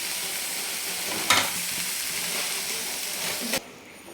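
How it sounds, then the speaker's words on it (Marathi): Cabbage chutney with coriander is stirred in a hot pan, giving a steady, close sizzle and hiss with one sharper scrape partway through, before the sound cuts off abruptly near the end. "आणि कोथिंबीर टाकून छान मिक्स करून घ्यायचं"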